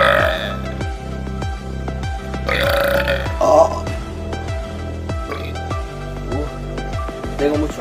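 Long, loud belches ring out one after another in a burping contest, each a drawn-out croaking eructation with brief pauses between them and no talk over them.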